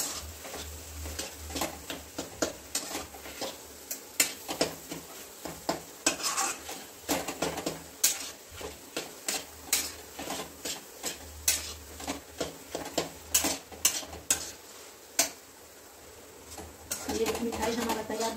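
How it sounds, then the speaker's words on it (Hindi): Cardamom powder being mixed into raw banana barfi in a pan, a spoon scraping and tapping against the metal in busy, irregular strokes, with a brief pause near the end and faint frying in the background. "इलायची को भी अच्छे से मिक्स कर लेते हैं"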